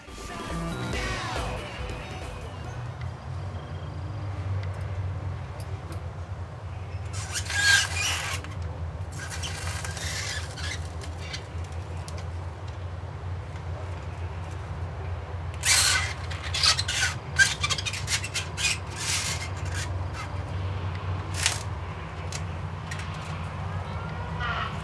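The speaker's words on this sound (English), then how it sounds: "I'm going to show you how loud dry ice can scream." Dry ice pressed against warm metal gives off a loud, shrill screaming squeal, with a steady underlying hum and several sharp bursts of high screeching rising and fading over about twenty-five seconds.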